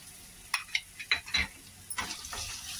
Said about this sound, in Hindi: त्यात अद्रक लसूण पेस्ट पण टाकूया आणि हे पण परतून घेऊ आपण